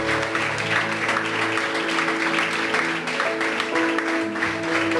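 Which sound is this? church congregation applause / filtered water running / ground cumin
church congregation applause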